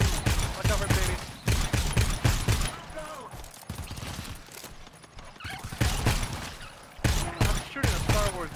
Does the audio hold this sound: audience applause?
no